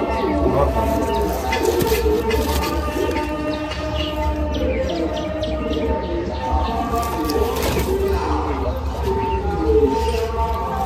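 Male Madrasi pigeon cooing close by among other birds, low repeated coos over a steady hum of a loft, with a person talking through much of it.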